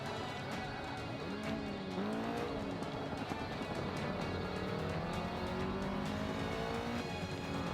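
A race car in the Forza 5 video game roars loudly throughout, with engine pitch rising and falling through gear shifts and revving, plus tire squeal, and no voices over it.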